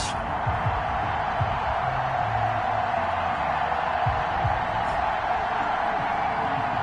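Steady stadium crowd roar in Madden 21 before a Minnesota Vikings versus New York Giants game, a dense continuous wash of cheering with faint scattered shouts, heard alone without talk.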